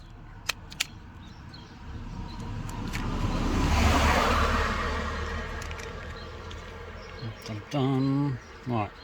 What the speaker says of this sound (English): started driving to warm the car up